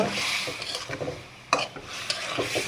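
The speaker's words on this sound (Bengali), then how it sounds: "এই যে কই মাছগুলো সুন্দর করে কষিয়ে নেব" Local koi fish being sautéed with spices in a pan, a brief low sizzle broken by a few sharp spatula scrapes and knocks against the metal.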